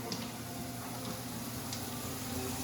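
Onions sautéing in oil in a pan for cioppino, a steady dense sizzle holding at an even level throughout, with no voices.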